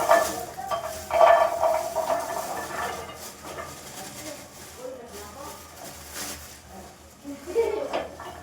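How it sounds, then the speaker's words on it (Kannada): Raw peanuts roast in a pan on a home kitchen stove, stirred with soft scraping and rattling clinks from the utensil against the metal, a faint sizzle underneath, with someone talking over it. "ಹಸಿ ಕಡಲೆಕಾಯಿ. ಇದನ್ನು ಹುರಿತಾ ಇದ್ದೀನಿ."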